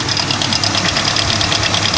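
A Hyundai Tiburon engine idles with a fast, even ticking knock over a steady low hum, heard close up with no talking.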